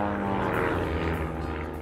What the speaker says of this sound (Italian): L'aereo è l'M52.